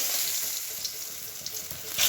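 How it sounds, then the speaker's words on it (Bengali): Eggplant slices fry in a pan, a steady bright sizzle close by with small crackling pops, no talk. "এখানে বেগুন ভাজাগুলো হচ্ছে"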